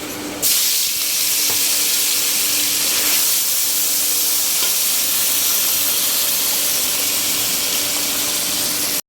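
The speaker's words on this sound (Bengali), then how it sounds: "মাছগুলো ভেজে নেবো, ঢেলে দেবো এখন" Fish pieces fry in hot oil with a loud, even, continuous sizzling hiss that starts abruptly and holds steady throughout, with no talking.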